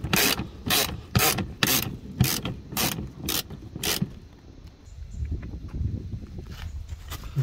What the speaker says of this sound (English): went and tightened them up with a ratchet. And that's the last one there for me to tighten.